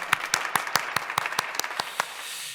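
A congregation at a Korean New Year dawn prayer service claps in a steady, evenly spaced rhythm, about a dozen distinct beats in unison, moderately close.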